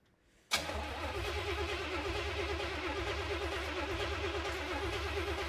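After a moment of quiet, the engine of an abandoned 1970 Cutlass unrun for 15 years cranks and catches, settling into a steady, rough, rumbling idle up close.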